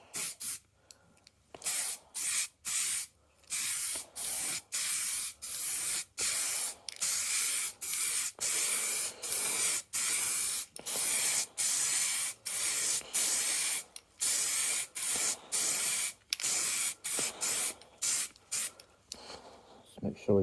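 A spray can hisses in many short, rhythmic bursts as a second coat of paint goes onto a Jaguar XJS V12 undertray, the close, loud sprays separated by brief gaps.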